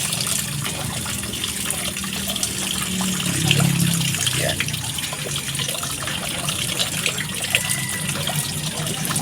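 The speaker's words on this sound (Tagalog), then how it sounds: "hugasan muna natin to sa tubig, ano, para maging malinis" Freshly harvested ginger is washed in water, making a steady, fairly loud rush of splashing and running water throughout, with a brief spoken word.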